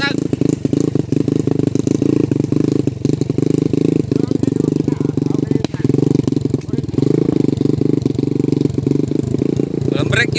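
A motorcycle with no working brakes rattles and drones loudly over a rough, rocky trail, its engine note steady and jolting throughout.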